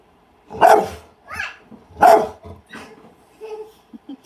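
A dog barks twice sharply nearby, followed by softer yips and a few brief whimpering sounds.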